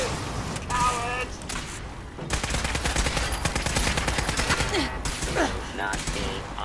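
Rapid bursts of automatic gunfire and single shots in the video game Fallout 4, loud and close. A voice speaks between the volleys, and shell-casing clinks and mechanical clatter sit under the fire.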